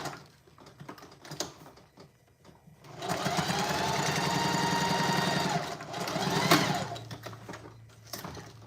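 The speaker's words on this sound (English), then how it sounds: "Now I'm back to sewing up the corners" A sewing machine stitches up the corners of a tote bag in one sustained run of about four seconds, close and steady, with quieter handling clicks before and after.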